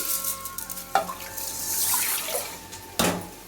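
About three-quarters of a litre of water poured into a pot for moong beans in a home kitchen: a steady splashing rush lasting a few seconds, with sharp knocks near the start and end.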